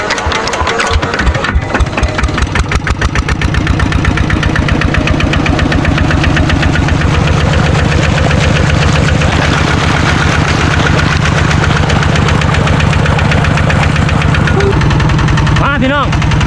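A small engine-driven water pump drains a fish pond, its motor chugging in a steady, loud, knocking idle rhythm throughout, with a person speaking over it.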